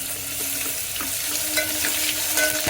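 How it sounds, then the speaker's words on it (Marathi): Ginger garlic paste and whole spices fry in oil for a mutton head curry, a loud, close, continuous sizzle with a few stirring scrapes and crackles, no speech. "आलं लसूणची पेस्ट एक चमचा घेतलेली आहे ती पण आपण तेलामध्ये भाजून घेऊया"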